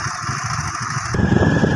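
A motorcycle engine idles and runs close by on a village road, a steady buzzing drone that shifts to a louder, rougher rumble partway through.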